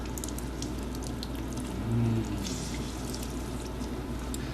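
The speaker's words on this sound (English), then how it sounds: "let's grab our other lemon. Squeeze the juice in." Lemon juice squeezed into a dish in a home kitchen, a faint wet trickle with a brief, slightly louder splash of liquid midway over a low, steady background hum.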